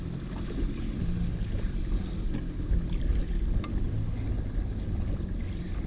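A jet ski engine idles on the water during a deep-water snapper fishing trip in rough weather, a steady low rumble with wind gusts and faint water lapping around it.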